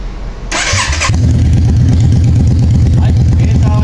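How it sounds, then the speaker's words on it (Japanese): A Yamaha Drag Star 400 chopper with drag pipe mufflers starts with a short starter whir, then catches into a loud, close, steady low idle rumble. "それではですね、エンジン始動いきたいと思います。"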